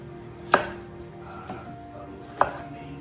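A knife slices jalapeños and onions on a cutting board, with two sharp, distinct chops about two seconds apart and a softer tap between them, close and clear in a quiet kitchen.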